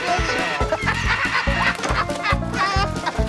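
A pet bird calling with clucking, rooster-like cries over a rhythmic low thumping background, loud and close, repeating throughout.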